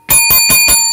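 Bell notification sound effect: four quick, bright, metallic dings in an even rhythm, loud and close with no talk.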